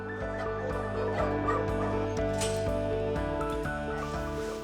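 Several dogs bark and yip at an animal shelter in Montpellier, overlapping repeatedly under a steady musical backdrop.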